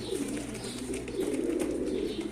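Soft, continuous low cooing of pigeons, several birds murmuring together at close range with no talking.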